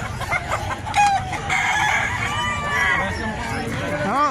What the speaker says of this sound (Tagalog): Yung mga manok oh.